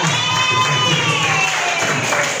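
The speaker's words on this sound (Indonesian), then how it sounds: "kita beri tepuk tangan untuk kalian semuanya" Applause and cheering for a group of children fill a room, steady clapping mixed with crowd noise and voices throughout, no clear pauses.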